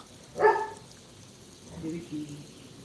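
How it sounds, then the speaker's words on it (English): Keefy the dog gives one sharp bark near the door, followed by a couple of lower, quieter woofs a moment later, with faint background sound throughout. "Stop barking at the door."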